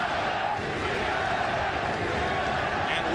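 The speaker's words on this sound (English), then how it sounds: "They go back and forth, chanting, cheering, challenging each other" A large boxing arena crowd chants and cheers without a break, a dense, loud, steady roar with rising shouts and no clear gaps.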